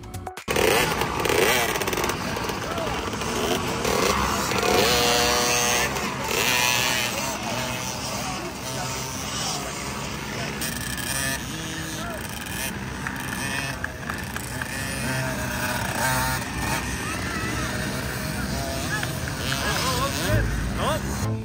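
A child's small motorcycle engine buzzes and revs around a practice track on the first lap, staying loud and close throughout with rising and falling pitch.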